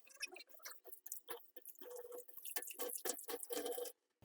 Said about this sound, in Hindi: पानी आपका इन जो छेद हैं इनमें से ड्रेन होके चला जाएगा